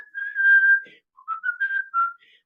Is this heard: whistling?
yes